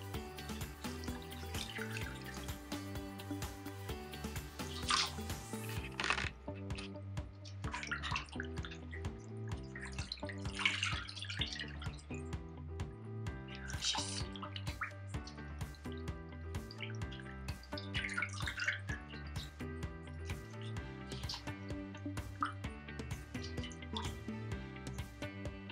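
Beef tripe is washed by hand in a basin of water, giving irregular splashes, drips and sloshing throughout at a moderate level close by, with no voices.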